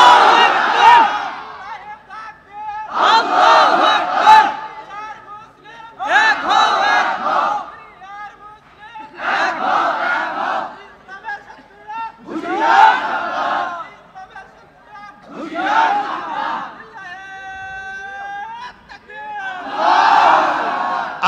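A large crowd at an outdoor religious gathering roars slogans in unison, loud rhythmic shouted bursts repeating roughly every few seconds with short pauses between.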